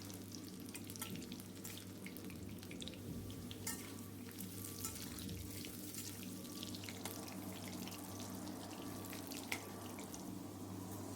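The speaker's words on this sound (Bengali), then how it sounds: "আলুগুলো আমি খুব ভালোভাবে লাল করে ভেজে নেব।" Potatoes fry in hot oil in a home kitchen while cooking a chicken masala curry, a steady close sizzle with occasional stirring clinks and scrapes, quiet and continuous with no talk.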